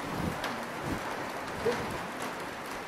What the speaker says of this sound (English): Of course here it's raining, cats and dogs, cold, wind is blowing, it's the middle of winter.